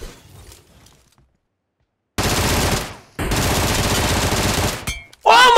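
Automatic gunfire in the mobile battle-royale game PUBG Mobile, two loud sustained bursts of rapid shots separated by a brief gap, followed by a sharp ringing crack at the end.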